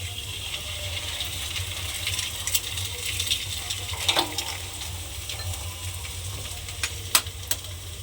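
Vegetables and two cracked eggs frying in a pan, a steady close sizzle with scattered clicks and scrapes from stirring throughout.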